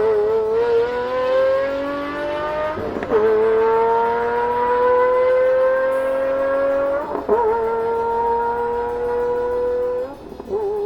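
A Pagani Zonda sports car engine revs hard and climbs through the gears, its rising whine broken by a clear upshift about every four seconds. It is loud and close throughout.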